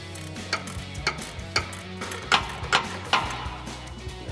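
A ratchet fitted with a 6mm Allen socket turns a shock bolt on a RAM 2500 front shock install, producing steady metallic clicking strokes at close range, with no talking.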